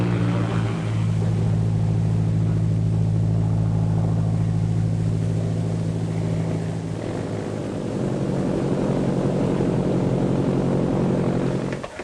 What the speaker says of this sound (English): It's Tommy's plane